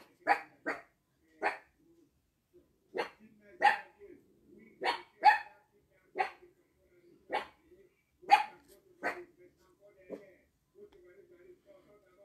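A small dog barks about a dozen times in sharp single yaps, some in quick pairs, close and clear in an otherwise quiet room.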